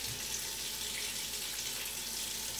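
Warm tap water runs steadily into a sink while a Chihuahua is being bathed, a continuous hiss with no talking.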